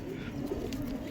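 An adult pigeon held in someone's hand gives a soft, low cooing, faint and brief against a quiet background.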